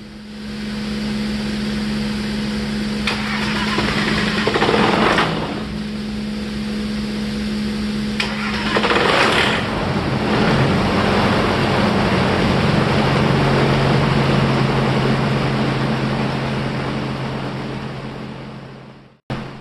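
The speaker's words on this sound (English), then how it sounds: "went to start the engine. This is the first time it's been started in over a month" A small engine, unstarted for over a month, cranks a couple of times, then catches and settles into a steady droning hum that runs loudly until it abruptly cuts off.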